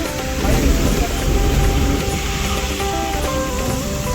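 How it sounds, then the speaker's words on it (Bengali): Heavy rain drums steadily on a moving vehicle, heard from inside as a dense continuous wash mixed with road rumble. "প্রবল বৃষ্টি হচ্ছে"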